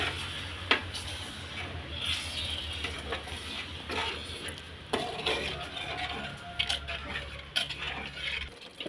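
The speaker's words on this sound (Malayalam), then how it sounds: "നമുക്കത് ഇളക്കി കൊടുക്കാം." Stirring food in a cooking pot, soft scraping and clinking of a utensil against the pot in irregular knocks, close and fairly quiet over a low steady hum.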